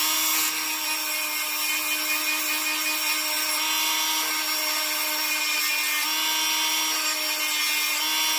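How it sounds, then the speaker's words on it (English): A Dremel rotary tool roughs up metal washers, producing a continuous high-pitched whine with a grinding rasp, loud and close throughout. "I just want to rough them up with a Dremel tool here"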